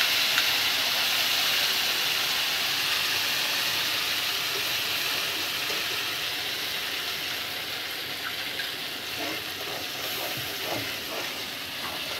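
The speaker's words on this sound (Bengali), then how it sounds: "এবার মশলা পেস্ট করে রেখেছি যে এটা এখন দিয়ে ভালো করে কষিয়ে নেব" Spice paste for a Bengali hilsa fish curry sautés in a pan, a loud, dense, steady sizzle close by that carries on throughout with occasional stirring scrapes.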